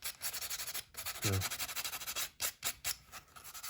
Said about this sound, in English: take some 320 sandpaper here, just to remove the laser marks